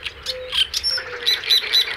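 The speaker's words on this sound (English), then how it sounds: "It's the great reed warbler, a proud singer, a fierce defender." Great reed warbler singing in wetland reed beds: a loud, close series of harsh, grating chirps and squeaky whistled notes in quick, jerky phrases, delivered alone over a quiet background.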